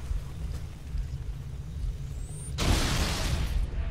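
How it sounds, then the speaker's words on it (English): A grenade goes off in Halo: Combat Evolved (Master Chief Collection). Low, rumbling game ambience gives way to a sudden broad blast that lingers as a rushing roar until the end. No voices are heard. "Let me throw a grenade down there."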